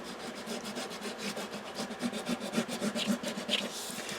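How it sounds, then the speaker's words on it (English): Blue colour being laid down and rubbed across a picture during a complementary-colour drawing lesson in an elementary art class, a soft, steady scratchy rubbing with quick repeated strokes, close and fairly quiet, with no talking. "And I'm laying it down and kind of rubbing it a little bit,"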